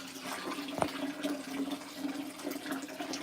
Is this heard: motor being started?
no